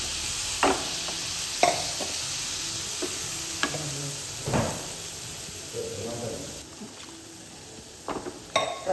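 Tomato paste sizzles in a pan of paneer curry while a spoon scrapes and clinks against the pan in irregular strokes, over a soft steady hiss.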